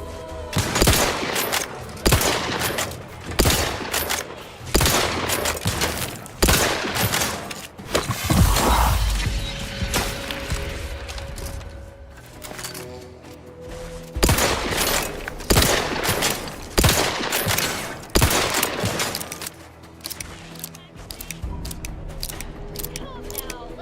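Dense, rapid gunfire in the video game The Outer Worlds, in a fight with enemies, one of them carrying a shotgun. Loud shots crackle almost continuously with metallic mechanical clicks, easing briefly before heavy volleys resume.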